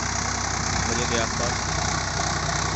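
A Swaraj 744 XT tractor, muddy from wet-field transplanting work, runs its diesel engine with a steady rhythmic chug and knock close by, while someone talks over it.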